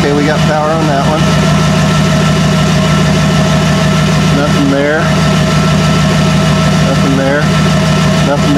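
A 2007 Dodge Ram engine idles steadily in neutral with four-wheel drive engaged, a continuous loud hum that runs through the whole stretch while someone talks over it.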